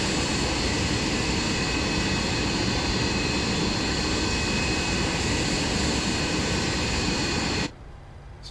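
Engine noise of a Boeing 737 BBJ private jet in flight, a steady, loud, broadband roar with faint whining tones that continues without change before dropping off abruptly near the end.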